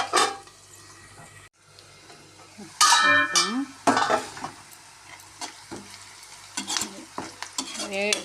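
Carrots frying in a pan for a carrot bhaji while a spoon stirs them, sizzling under bursts of scraping and clattering strokes against the pan, close, with brief sounds of the pan being handled.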